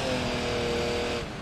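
A video game car engine drones steadily and loudly during a bridge crash experiment, a continuous motor roar with a slight dip near the end and no talking.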